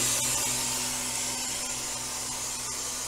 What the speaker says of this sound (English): we're gonna open the drain valve to release the vacuum